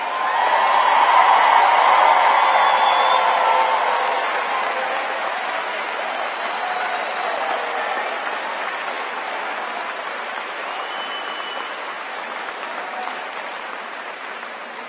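A graduate commencement audience gives a long round of applause, loudest at first and then slowly tapering into a steady, softer patter of many hands across a large hall.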